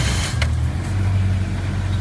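Vehicle engine idling steadily after a cold start in extreme polar-vortex cold, a low, even drone with a brief mechanical clack early on.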